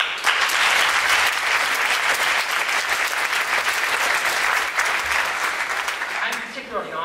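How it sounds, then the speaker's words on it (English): An audience applauds graduating university students with loud, sustained clapping that fills the hall and keeps a full, even intensity before easing slightly near the end. "You deserve a round of applause."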